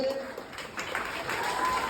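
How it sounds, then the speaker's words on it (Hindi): Applause from an audience at a school Independence Day (15 August) programme, a steady broadband clatter of clapping lasting about two seconds, fairly even in loudness with some voices mixed in. "जोरदार ताली बजाइए"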